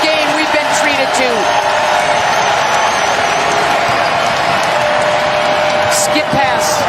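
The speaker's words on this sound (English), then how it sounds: "Sold out crowd here at the Kennel is up and roaring" Sold-out crowd at the Kennel roaring during an NCAA second-round women's basketball game between Gonzaga and Utah, a loud, steady wall of cheering with a play-by-play voice speaking over it.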